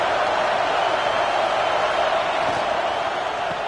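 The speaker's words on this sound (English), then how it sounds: "This crowd ready to make its presence known." Stadium crowd noise in the video game College Football 26, a steady loud roar of massed voices with no breaks for the whole stretch, no commentary over it.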